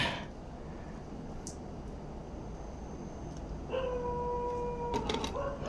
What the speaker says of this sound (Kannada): ನಾಯಿ ಬೇರೆ ಹೇಳ್ತಾ ಇದೆ.